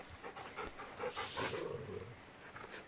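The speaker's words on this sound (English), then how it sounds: "we pet the dog? Who's a good puppy?" A dog in Final Fantasy XVI pants while being petted, soft rhythmic breathy huffs at close range, fairly quiet, with no talking over it.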